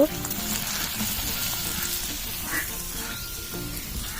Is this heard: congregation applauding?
no